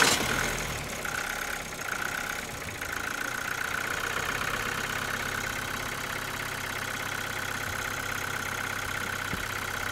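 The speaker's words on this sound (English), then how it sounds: "Run engine at idle speed." A 2013 Vauxhall Astra J 1.7 CDTi diesel with a high fuel pressure fault idles steadily and close, a continuous mid-pitched engine hum with a faint click early on, no talking.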